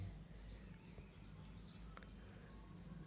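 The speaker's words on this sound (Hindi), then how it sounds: "बगल में चिड़ियों की चहचहाहट आपको सुनाई दे रही होगी" Faint, sparse bird chirps scattered over a low background hum, short high tweets repeating irregularly at a distance.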